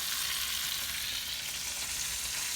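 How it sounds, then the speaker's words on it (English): Chicken thighs sear in butter in a hot pan, a steady, dense sizzle and crackle that holds continuously and close up without any pause or talk. "We've got a nice good little sear on here."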